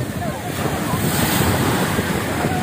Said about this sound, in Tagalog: Baka bumagsak ako, lakas ng alon eh.